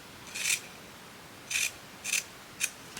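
Scissors snip through scraps of velvet fabric in four crisp, close cuts, spaced irregularly over a quiet background with no talking.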